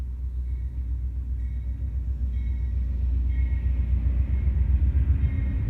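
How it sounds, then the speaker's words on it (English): An Amtrak passenger train of one engine and five passenger cars rumbles steadily past, a deep continuous low roar that swells slightly louder toward the end, with faint higher squeals above it. "Now you notice the train that's coming back."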